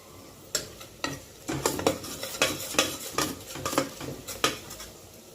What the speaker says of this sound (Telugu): ఆనియన్స్ గోల్డెన్ బ్రౌన్ కలర్లో వేగిపోయినాయి.